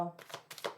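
Tarot cards being shuffled in brief papery riffles and slides, close by, with someone talking over them.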